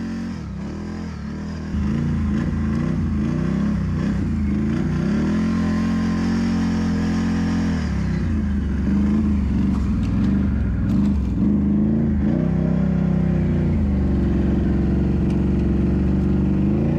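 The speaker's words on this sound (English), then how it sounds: "Hammering the throttle and blasting through deep snow is exhilarating" A Can-Am Renegade snowmobile engine revs hard through deep snow, its loud, close drone rising and falling in pitch as the throttle is worked, holding steady for a long stretch with no talk over it.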